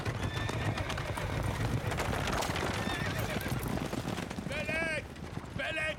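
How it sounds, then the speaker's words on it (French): Chariot horses from the 2010 Ben-Hur film neigh loudly twice near the end, over steady clip-clopping hooves and a dense, noisy background with people talking. "S'il maltraite ainsi les chevaux, ils ne tiendront pas longtemps."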